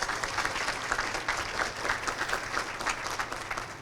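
Audience applause after the sponsor DeBoer Bauman is thanked at a Grand Haven, Michigan community event on housing: dense, steady clapping from a crowd that holds at an even level throughout.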